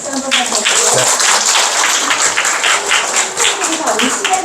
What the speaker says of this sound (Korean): 긴 시간 고생해 주신 교수님께 박수 한번 받아주세요